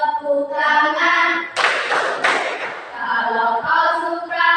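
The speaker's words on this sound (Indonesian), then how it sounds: "Tepuk tangan." A group standing together claps hands in a short burst of loud, fast clapping, framed by people singing or chanting in unison before and after.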